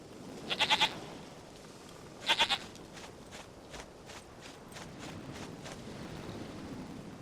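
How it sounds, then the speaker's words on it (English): A goat bleats twice in the video game The Witcher 3: Wild Hunt, two short quavering calls a moment apart, followed by faint soft tapping over quiet ambience. "Goat of mine, dearest, sweetest goat."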